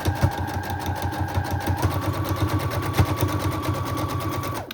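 A sewing machine stitches steadily across recipe card pockets in a fast, even mechanical rhythm that holds loud and close for the whole stretch, with a brief shift in pitch partway through.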